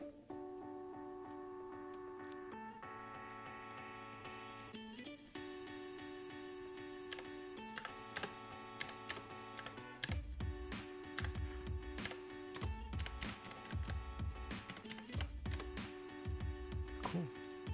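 Keys clacking on an Arealer Roarer RGB mechanical keyboard with macro keys, sharp scattered clicks growing denser in the second half, close and fairly loud over steady background music with no talking.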